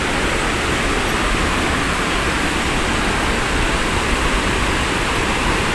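A natural waterfall beside a swimming pool roars as a steady, dense wash of falling water, loud and close, unchanging throughout, with no voices.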